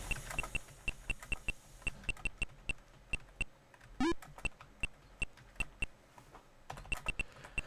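Computer keyboard keys clack in quick, fairly regular bursts of typing during a session of the game Mario Teaches Typing, with a brief rising game chirp partway through.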